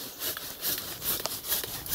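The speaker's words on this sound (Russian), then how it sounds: "Ну, сейчас я покажу, как пилить." A hand saw cuts through a maple tree outdoors, producing a rhythmic rasping of back-and-forth strokes, close and fairly quiet with no talking.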